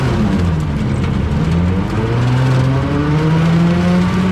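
A small Kubota tractor engine runs steadily and loud up close while clipping pasture, a low droning hum with slowly rising and falling pitch throughout.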